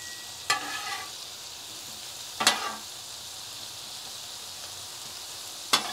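Strawberries in barbecue sauce stirred in a hot pan: three short bursts of sizzling and scraping about two seconds apart, moderately close, with quiet background between them and no talk.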